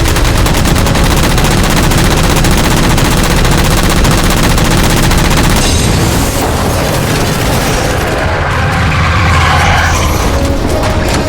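Sustained gunfire rings out in Halo 4 as jammers are shot down. The fire is loud and continuous, mixed with booms and mechanical battle noise, then thins slightly toward the end with no talking.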